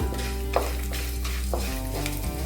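Cloves and other whole spices sizzle and crackle in a hot pan over lowered heat, with a few soft scraping stirs over a steady frying hiss.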